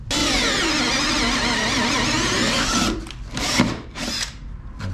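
A power drill bores a hole through a wooden floor to make room for a jigsaw blade, a loud sustained whine for about three seconds that then breaks into short bursts and stops.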